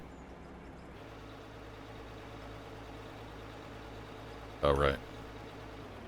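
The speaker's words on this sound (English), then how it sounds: "Dozer sounds good sitting there idling" In a mining game, a bulldozer engine idles with a steady, low, continuous rumble, while someone speaks briefly near the end.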